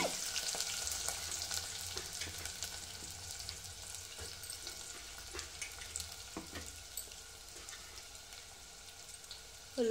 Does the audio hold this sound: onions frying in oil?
yes